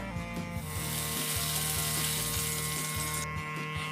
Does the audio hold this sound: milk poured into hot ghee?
yes